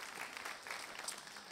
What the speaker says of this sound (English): That's where you clap.